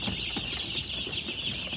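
Many newly hatched farm chicks peep shrilly and constantly, a dense high-pitched chorus of overlapping cheeps heard up close as they are let loose.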